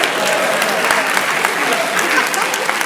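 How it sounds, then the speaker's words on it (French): Steady applause from a comedy-show audience at a live mentalism performance, dense continuous clapping close by filling the whole stretch with no break. "Regardez comment elle applaudit."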